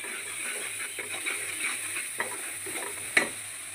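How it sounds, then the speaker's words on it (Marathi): Green chili peppers roast in a pan with a steady close sizzle and hiss, broken by light stirring scrapes and a sharp pop or two. "छान आपली मिरची भाजून घ्यायची."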